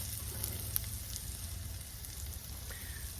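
Meat broth poured into a hot pan for a wine reduction sauce over beef short ribs gives a steady, fairly quiet sizzle and hiss with a few faint ticks, close and uninterrupted, no one talking.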